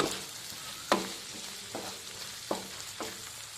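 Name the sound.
shrimp frying with a little salt, being stirred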